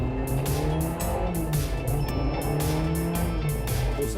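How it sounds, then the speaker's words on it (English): A rally car's engine strains and labours up a climb, a loud continuous drone with rising and falling revs and some tyre noise, close and steady throughout. "in the uphills, the car has trouble and labors."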